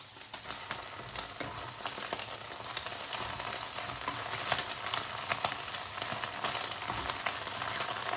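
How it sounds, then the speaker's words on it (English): Whisked eggs frying in a little oil in a pan, a close, steady crackling sizzle with scattered pops and light stirring throughout, no voices. "And fry with a little bit of oil."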